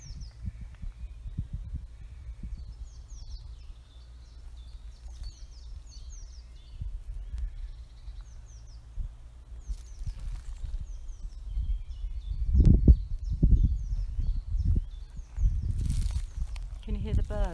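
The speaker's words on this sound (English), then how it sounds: "Can you hear the birds as well?" Birdsong drifts faintly through a bluebell woodland beside a regrowing coppice, with soft high chirps scattered across the clip beneath low wind rumble and some nearby handling noise.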